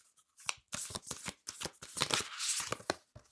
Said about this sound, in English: I feel like we need to shuffle.